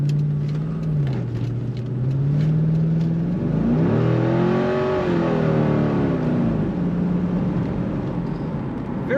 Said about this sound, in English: Very nice acceleration, as you would expect from a Corvette